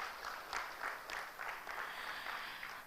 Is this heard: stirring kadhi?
no